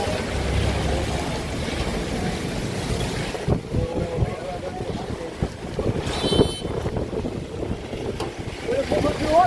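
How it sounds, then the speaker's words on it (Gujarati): Strong windstorm blowing through Vallabhipur amid heavy rain, a continuous loud roaring rush with gusty surges and buffeting wind noise on the microphone, steady throughout. "વાવાઝોડું અત્યારે વલભીપુરમાં ટાટક્યું છે ભાઈ."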